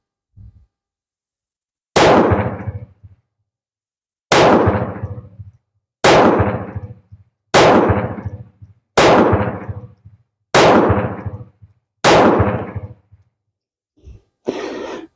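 Seven sharp, loud gunshots from a surplus .32 pistol ring out one by one at a steady pace about every one and a half seconds, each a hard crack with a short echoing tail, with a quieter click before the first and after the last.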